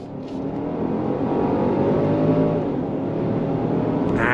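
A 2025 Genesis GV70 3.5T twin-turbo V6 luxury SUV accelerates under full throttle, its engine note climbing steadily and loudly from inside the cabin, with no talk.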